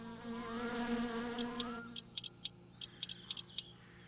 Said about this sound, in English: I did consider installing a mod at the last second to remove mosquito noises and such